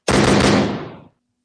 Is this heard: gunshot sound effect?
yes